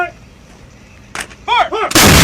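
An M777 light towed 155mm howitzer fires in the field, a sudden loud, broadband blast arriving at the end after brief shouted commands from the crew.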